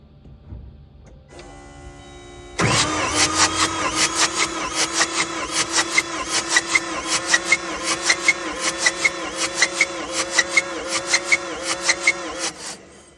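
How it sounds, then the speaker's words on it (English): A diesel engine cranks over on the starter during a compression test with glow plugs and injection removed, giving a loud, steady rhythmic chug of even pulses for about ten seconds after a sudden start. "I'm gonna go down there and crank this engine and let's see what happens."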